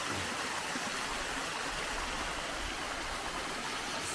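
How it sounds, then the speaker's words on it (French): A tiny waterfall on a small stream along a hiking trail near Luzech in the Lot, France, gives a steady broadband rush of splashing water. It runs close and continuous for the whole span with no voices. "donc là c'est une toute petite cascade, un tout petit ruisseau."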